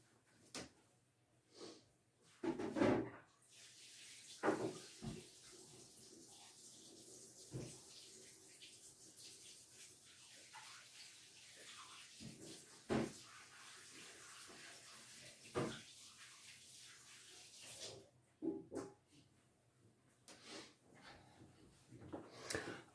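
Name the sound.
running tap water, washing hands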